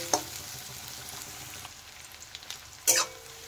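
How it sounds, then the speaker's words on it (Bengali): Onions frying lightly in oil in a home kitchen for a prawn and banana flower dish, a soft steady sizzle with a couple of sharp stirring clatters, close and without talk. "পেঁয়াজটা একটু হালকা ভেজে নেব"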